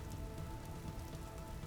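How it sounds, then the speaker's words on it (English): Rain falling in the video game Vintage Story, a faint, constant hiss and patter that stays level from start to finish, with no voices over it. "Yeah, it's raining."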